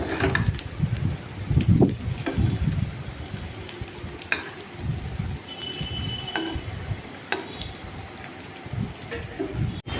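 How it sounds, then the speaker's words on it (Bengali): Banana flower dhoka cakes frying in hot oil, a steady crackling sizzle with occasional sharper pops and stirring clatter, continuing throughout at moderate loudness with no voices. "উল্টে পাল্টে সব ধোকাগুলোকেই আমরা ভালো করে ভেজে নিলাম"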